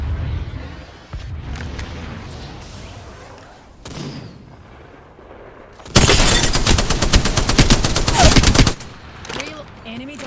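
Gunfire in Apex Legends, with a long, loud burst of rapid automatic fire lasting a few seconds after quieter game sounds and brief speech.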